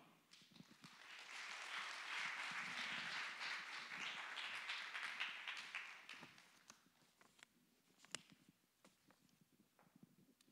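A church congregation claps to welcome a preacher at a morning worship service, a dense burst of applause lasting several seconds before thinning into scattered taps and quiet.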